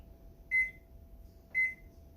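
Two short, identical electronic beeps about a second apart from a kitchen oven reaching 375 degrees, clear against a quiet room with a faint steady hum.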